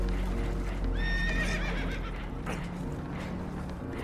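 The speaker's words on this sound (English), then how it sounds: "Horses are spooked" Spooked horses whinny in a sharp, shrill burst near the start, with hoof clatter and steady rumbling noise underneath.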